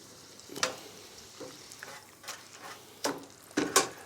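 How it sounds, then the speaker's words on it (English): Food frying in a deep fryer at around 160 to 170 degrees gives a faint, low bubbling hiss, broken by a few sharp clinks and scrapes of utensils. "Whilst they're frying away, literally 2 or 3 minutes, we'll make up our batter."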